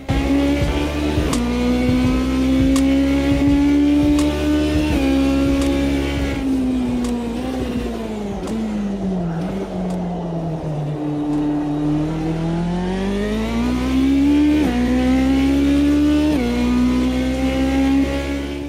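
Modded race car on a hot lap in the Automobilista 2 racing sim, its engine droning loud and steady, with pitch climbing through gears and dipping under braking over the whole lap.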